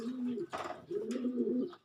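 A red check pigeon coos nearby in two drawn-out, throaty phrases, broken by a short rustle or flutter between them.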